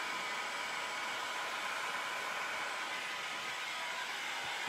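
A heat gun blows a steady, faint stream of hot air while it warms wood moulding for bending, a constant even whoosh with no breaks and no talking.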